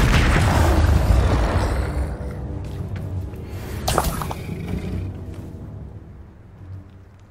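An Incendio fire spell in Hogwarts Legacy bursts out with a loud, dense whoosh that gradually fades, followed by a sharp crackling flare and a softer trailing rumble.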